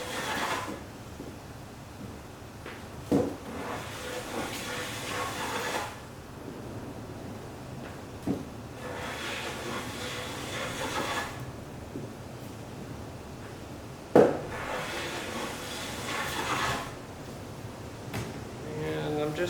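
A Wood River hand plane runs along the edge of Douglas fir construction lumber in several long, breathy shaving strokes separated by pauses, with a few sharp knocks as the plane is set down or repositioned.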